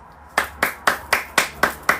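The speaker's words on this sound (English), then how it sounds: "All of us clapping." Hands clapping in a slow, even rhythm, seven crisp claps close and clear at regular intervals with no talk over them.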